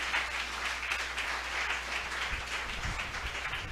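A church congregation applauds in praise during a sermon, a steady wash of clapping at moderate, slightly distant level that holds evenly throughout, with a few low thumps near the end.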